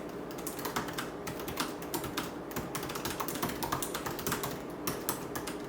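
Steady, fast typing on the Magic Keyboard of a 16-inch 2019 MacBook Pro, a dense run of soft close key clicks over a constant background hiss, with no talking.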